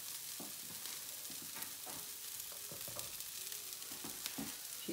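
Continuous sizzle of mushrooms added to softened carrots, onions, celery and garlic frying in a pan for spaghetti Bolognese, with soft stirring scrapes and clicks, close and steady, no talking.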